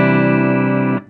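An electric guitar chord rings out through the clean channel of a 35-watt amp, a single bright sustained strum held steadily for about a second before being cut off abruptly.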